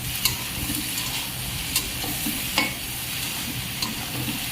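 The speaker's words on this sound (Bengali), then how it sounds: "এখন একটু ভালোভাবে ভেজে নিতে হবে।" Mixed radish stalks fry steadily in a pan, a continuous close sizzle with a few sharp clicks of a spatula stirring against the metal.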